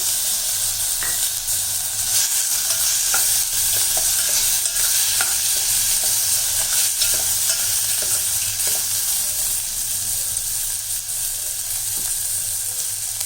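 Two medium finely chopped tomatoes sizzle and fry steadily in a pan for garlic rasam, with occasional stirring clicks and scrapes throughout; no voices.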